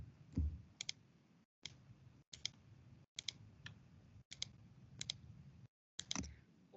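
Keys on a keyboard are tapped while digitizing, about eight quiet, sharp clicks spaced roughly a second apart, close and faint, separated by brief silent gaps.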